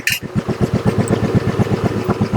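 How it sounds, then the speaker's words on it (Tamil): A roughly 35-year-old Royal Enfield Bullet motorcycle, kick-started moments earlier, idles up close with a loud, evenly spaced thumping beat. "ஸோ இதுதான் இதோட பீட்டிங் ஆக்சுவலாக நான் பீட் காமிக்கிறேன்"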